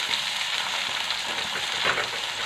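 Deseeded, chopped tomato goes into a pan of well-browned onions for a village-style green chickpea curry, keeping up a dense, steady sizzle with a slight swell near the end, close and moderately loud.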